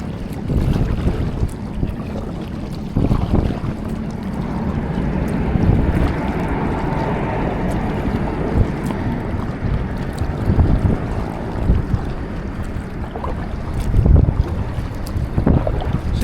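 Wind blows past a small boat out at sea off Skiathos and buffets the microphone with a heavy, continuous roar and gusty rumble, while water washes faintly beneath it throughout.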